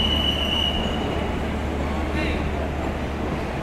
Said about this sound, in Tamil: ஃபைனலாக ட்ரெயின் கிளம்பிடுச்சுங்க.